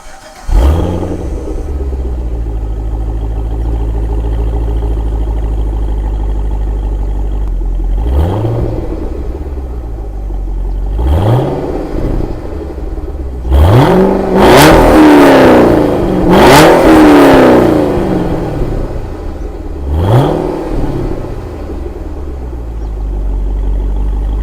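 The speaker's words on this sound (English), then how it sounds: "really, really amazing sounding exhaust, which I will do a exhaust startup for you guys right now" A 2011 Cadillac CTS-V Coupe with a Corsa catback exhaust starts up into a loud, deep idle, then revs sharply several times, with the strongest bursts clustered in the middle before settling back to a rumbling idle.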